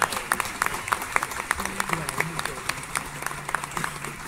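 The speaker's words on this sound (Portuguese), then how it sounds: "Uma salva de palmas para todos vocês." Audience applause in the Cine Teatro de Paraíso during a tuna music competition: a crowd of clapping hands, continuous and moderately loud, with a voice heard over it.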